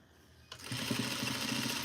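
A sewing machine starts up and runs in a steady, fast stitching hum while sewing a duster garment from Simplicity pattern 8059, loud and close with no talking.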